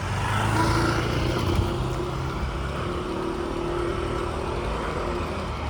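Motorcycles pass by at night on a quiet street, a muffled engine drone rising and easing at moderate distance over steady background noise, with no voices.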